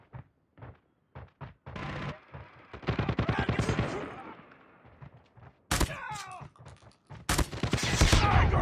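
Rapid bursts of automatic gunfire in a Call of Duty Mobile multiplayer match, loud and close, with sharp short shots early and sustained fusillades later, broken by brief pauses and interleaved with other game effects.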